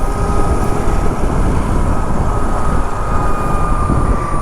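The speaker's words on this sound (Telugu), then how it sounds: "మీకు సౌండ్ వినిపిస్తుంది అనుకుంటా, మోటార్ అయితే అరుస్తోంది." An electric bike motor strains loudly while climbing the Annavaram ghat road, a steady high whine over heavy wind rush and rumble, constant and close throughout.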